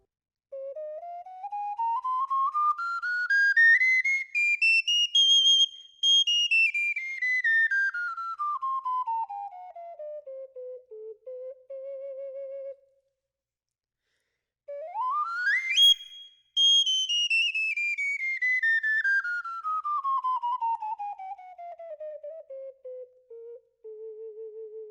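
A Jiegle plastic brass instrument, played alone, sweeps smoothly up through its range to a high peak and back down, holds a low note, then repeats the rising and falling run with small breaks between notes.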